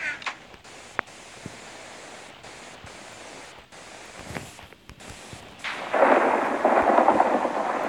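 A thunderstorm in Minecraft Pocket Edition rumbles with faint cracks of lightning, then a loud swelling roll of thunder and rain noise takes over near the end.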